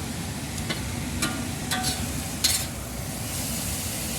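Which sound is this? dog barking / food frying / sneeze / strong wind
food frying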